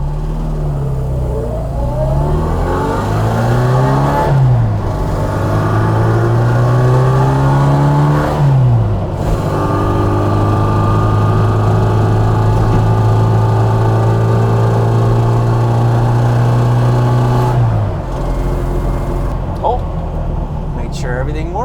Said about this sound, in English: That exhaust sounds awesome.